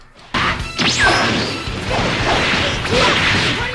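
A rapid Super Elite Combo attack from Dragon Ball Xenoverse 2 bursts in loudly after a brief silence, a flurry of whooshing swipes and smashing impacts that continues densely for several seconds.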